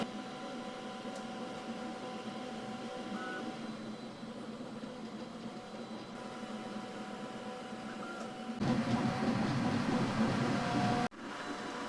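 Creality K1 3D printer running on a heavy wooden workbench set on a floorboard floor, a steady mechanical hum and whir with buzzing tones, getting louder and busier near the end before dropping back.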